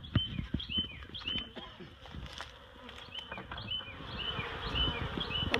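Honeybees buzzing around a barrel during relocation to a new hive, a dense close swarm hum with many individual bees zipping past, continuous throughout without talk.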